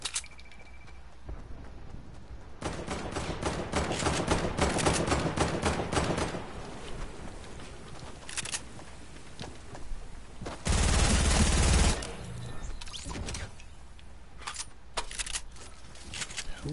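Rapid bursts of video game gunfire crackle through a busy stretch, with a dense sustained volley in the middle and a loud heavy blast near the end, followed by sparser shots.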